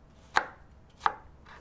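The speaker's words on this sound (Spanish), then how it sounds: "Cortamos un cuarto de manzana Granny Smith en daditos" A knife dices a quarter of a Granny Smith apple into small cubes on a board, giving two crisp, close chopping knocks about a second apart, then a fainter third cut, with no voices.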